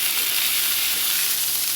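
A smash burger patty sizzles hard on a 22-inch Blackstone griddle, giving a loud, close, continuous frying hiss that holds steady throughout with no talking.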